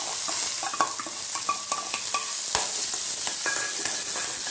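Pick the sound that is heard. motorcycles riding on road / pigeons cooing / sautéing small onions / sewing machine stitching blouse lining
sautéing small onions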